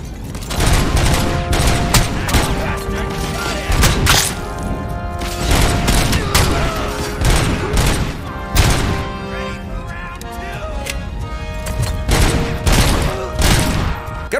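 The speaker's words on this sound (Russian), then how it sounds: "Шаги Роба узнаваемые, звуки стрельбы тоже" Rapid bursts of gunfire from the Robocop: Rogue City video game, loud repeated shots and booms in quick succession alongside a steady game soundtrack, with little speech.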